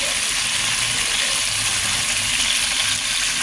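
Chicken pieces sizzle steadily in hot oil in a pan for chicken roast, a close, constant crackling hiss that stays even throughout.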